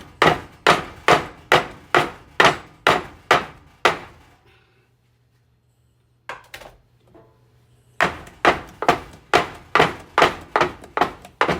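Sharp, regular knocks as filled cake pans are bounced onto a hard counter, a steady run of thuds, a pause with faint rattling, then another quick series.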